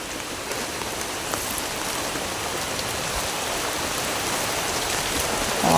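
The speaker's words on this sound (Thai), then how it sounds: "โอ้ฝนตกพี่น้อง" Rain falls steadily outdoors during a crab-digging outing, a dense even hiss close around with no pauses, swelling slightly louder at the very end.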